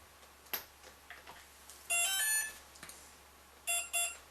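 A hexacopter's electronic speed controller beeps during throttle calibration: a couple of short tonal beeps, one near two seconds and another near the end, amid faint clicks.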